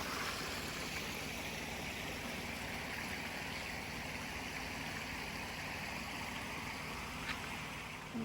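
A forest stream babbles in a steady, unbroken wash of rushing water, close and constant throughout, with no voices over it.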